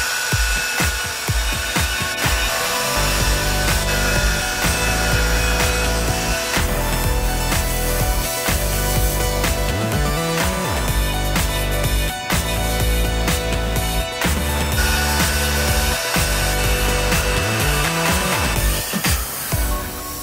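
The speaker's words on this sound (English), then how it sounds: "it is time to sand this once more" Hand sanding of body filler on a Honda Prelude dent, steady loud rasping strokes repeating in a continuous rhythm for about twenty seconds, close up with no talking.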